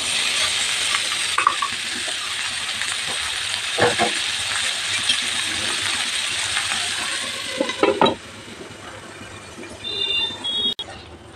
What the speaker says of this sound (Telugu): ఇప్పుడు కొంచెం వేగేంత వరకు మూత పెట్టి వేయించాలి.